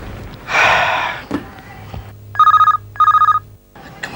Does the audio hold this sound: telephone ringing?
yes